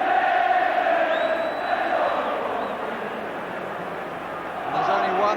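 A football crowd at a Liverpool versus Everton match chants "there's only one Peter Beardsley", a broad sustained mass of voices filling the stadium, swelling again toward the end.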